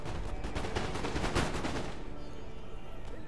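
A musket volley in Empire Total War, a dense crackle of many shots fired together in a rolling burst over a couple of seconds, moderately distant and fading into battlefield rumble.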